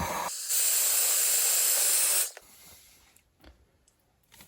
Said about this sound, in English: So I have this guy, so I'm just gonna heat shrink this.